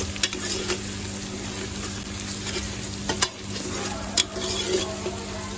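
Quiet, steady sizzle of garlic frying in a pot, broken by occasional sharp clinks of a spoon against the metal; no talking.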